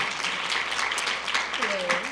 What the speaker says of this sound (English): give a round of applause to Nancy.